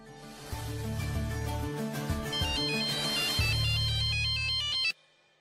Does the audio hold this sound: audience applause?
no